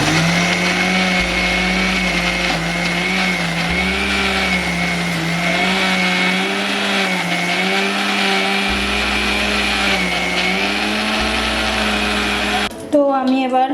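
An electric grinder whirs steadily while making a paste of soaked lentils, a loud continuous motor drone with slight pitch wobble that runs for many seconds and cuts off near the end.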